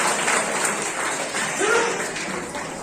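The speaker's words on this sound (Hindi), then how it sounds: "जोरदार तालियों से उनकी हिम्मत अफजाई करें" Applause from a crowd at a welfare society's annual general meeting, steady moderate clapping lasting a few seconds with a voice faintly audible beneath it.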